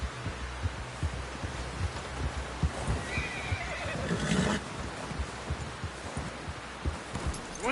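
A horse whinnies and neighs in Red Dead Redemption II, with a louder burst midway, over a steady rhythm of hoof clops and a dense background bed; no one speaks.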